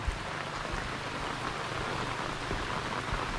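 Heavy rain pours down in a mangrove area, a dense, steady hiss of drops hitting surfaces that stays loud and unbroken throughout.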